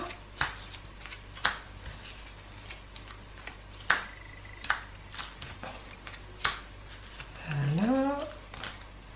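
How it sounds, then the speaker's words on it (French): Playing cards dealt out one by one onto a table in a French card reading, giving sharp, separate snaps and slaps at irregular intervals, followed near the end by a brief rising whistle-like tone. "On va mettre 3 cartes sous chacune des cartes."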